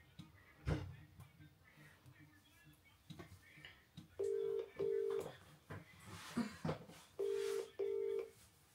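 Ringback tone of an outgoing phone call: two double-pulse rings sound a few seconds apart, clear and fairly close, after a stretch of soft rustling and brief voices.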